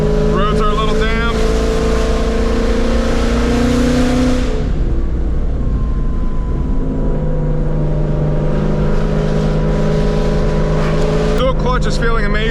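A sports car with a dual-clutch gearbox, driven on damp back roads, revs hard with rising engine notes that break at upshifts, then settles to a steady cruising hum before climbing again, loud and close.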